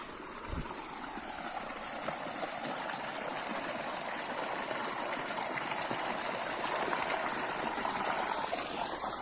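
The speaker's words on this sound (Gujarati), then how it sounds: "તો કપાસમાં પાણી ચાલુ છે," Irrigation water flows and trickles steadily into a cotton field, a continuous gushing wash with a faint low hum beneath, no voices.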